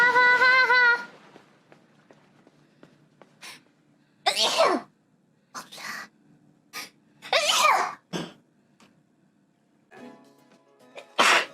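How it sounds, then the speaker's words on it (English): Several sharp sneezes in a row, each run through a playful echo effect, with quiet gaps between them and a short voiced tone at the start. "I sneezed in the funny echo box!"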